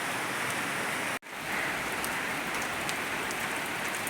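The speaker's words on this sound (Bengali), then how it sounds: "প্রচুর বৃষ্টি নেমে গেল জোর বৃষ্টি" Heavy rain pours down in a dense, steady hiss, broken only by a split-second dropout before the downpour resumes.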